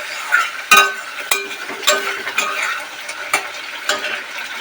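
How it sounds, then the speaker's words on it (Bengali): Masala sautéed and stirred in a frying pan for a masala begun dish, a steady close sizzle broken by sharp scraping clicks of the spatula roughly every half second. "মশলাটা আমাদের প্রায় কষানো হয়ে যাচ্ছে।"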